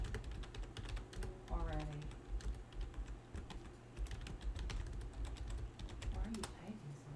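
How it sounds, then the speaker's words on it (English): Rapid, dense clicking of a computer keyboard during a video game bot match, steady close keystrokes running throughout with a brief word spoken and game sounds underneath. "Why are you typing so fast?"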